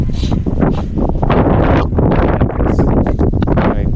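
Steady, loud wind buffeting the microphone, a continuous rough roar with gusty swells and no voices.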